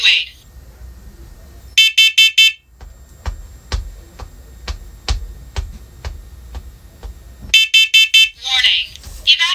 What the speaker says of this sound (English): Warning. Evacuate. Carbon monoxide in master bedroom.